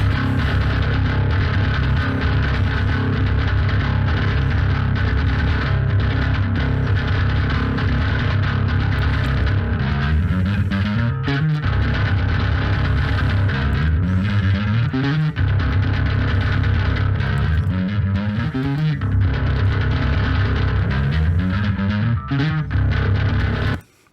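Compressed metal bass guitar track with a steady, gritty, distorted low-end drone, played continuously and evenly loud, with gliding note changes, no talking, and an abrupt stop at the end.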